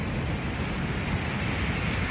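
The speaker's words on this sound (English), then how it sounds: "The waves are already up high." Ocean surf rolling in with high waves, a steady, loud wash of broadband noise that runs unbroken and is heard alone.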